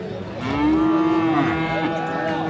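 A single long, drawn-out moo from a bull calf at a cattle market, close and fairly loud, rising then fading over a couple of seconds with light background noise.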